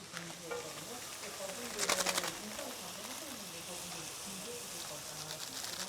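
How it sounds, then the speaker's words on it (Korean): Bamboo shoots stir-fry with a steady sizzle in a hot pan while Korean noodle dishes are cooked in Sichuan, China. The frying hiss runs continuously beneath a low background hum, with a brief louder clatter partway through. "자 이렇게 하고 이제 조금만 볶고"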